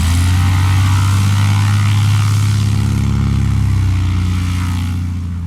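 A small propeller airplane drones loudly and close while landing with power added just before touchdown, a steady engine roar that slowly eases off toward the end.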